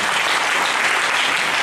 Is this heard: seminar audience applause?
yes